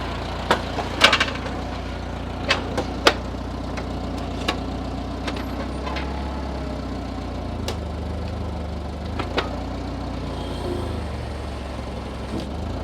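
A car idles steadily while it creeps ahead a few inches with something snagged underneath, the low engine drone broken by a few sharp knocks and scrapes near the start.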